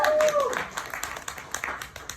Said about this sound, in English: Yeah, we can clap it up for abortion rights.